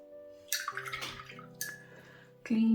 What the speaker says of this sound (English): Clean your brush